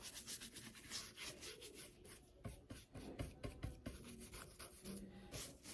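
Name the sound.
brush rubbing finish into wooden barrel sign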